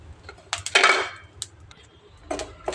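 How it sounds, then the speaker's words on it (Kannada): Coriander seeds poured into a pan after cumin while tempering spices for fenugreek-leaf chutney: a short rattling scatter of seeds on metal, followed by light clinks and a second brief patter, close and quiet. "ಜೀರಿಗೆ ಆದಮೇಲೆ ಧನಿಯಾ ಹಾಕ್ಕೊತಾ ಇದ್ದೀನಿ"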